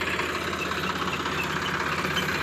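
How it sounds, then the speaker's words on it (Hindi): A Sonalika DI-35 tractor, a 39 horsepower model, idles steadily with a continuous low diesel rumble and a faint knocking texture, close and alone with no talk over it. "यह जो ट्रैक्टर आपको दिखाई दे रहा है,"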